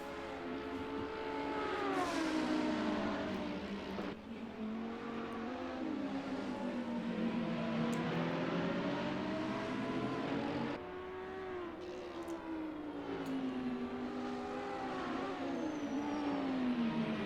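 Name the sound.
Audi and McLaren race cars at Kyalami in sim racing game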